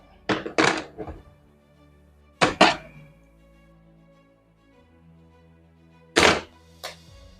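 Three separate bursts of sharp hammer blows on a tap during car repair on a Toyota Vios, each a quick pair of knocks, separated by quiet pauses.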